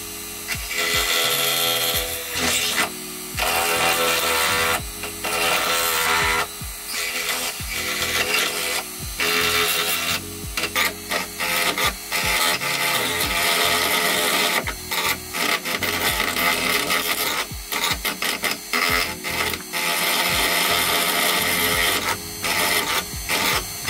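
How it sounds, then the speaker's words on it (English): A high-pitched rotary tool whines continuously while grinding, its pitch and loudness wavering with brief dips as it bites into the material. "add little tiny bits of dimension and depth and ridges by just subtle movement of the rotary tool"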